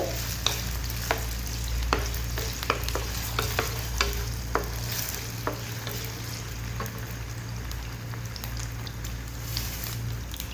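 Potatoes frying in cooking oil in a pan, a steady sizzle running throughout with scattered crackles and pops and occasional stirring scrapes, close and continuous.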